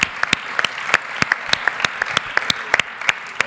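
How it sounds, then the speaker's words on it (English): An audience claps steadily for entrepreneurs at the Alp ICT Venture Night 2012 event, a dense, continuous patter of many hands with sharper individual claps standing out, close and alone without talk. "So if we can applaud them."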